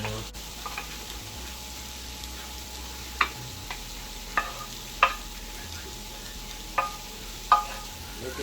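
Peppers and onions sizzle steadily in a hot pan while they are stirred and transferred, with a constant frying hiss broken by several sharp utensil scrapes and clinks at close range.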